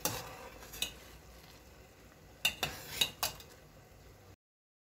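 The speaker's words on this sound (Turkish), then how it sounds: "Şerbetim çok güzel kaynıyor." Plum jam syrup boils in a pot on medium heat with a constant soft bubbling hiss, while a spoon stirs and clinks against the pot a few times, close by.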